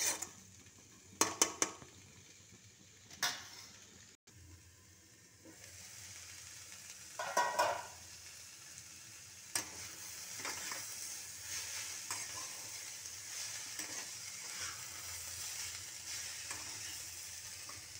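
Curry being sautéed in a covered pan over low heat, a soft continuous sizzle with occasional scrapes and clinks of a spoon against the pot, and no talking.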